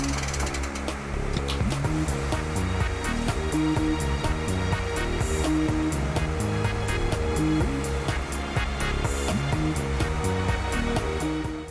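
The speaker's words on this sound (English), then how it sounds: "The boat gains speed and travels rapidly across the lake, leaving behind it an impressive trail of foaming waves." A boat engine drones continuously at speed across Todos los Santos Lake in Chile while water rushes and splashes against the hull, loud and unbroken throughout.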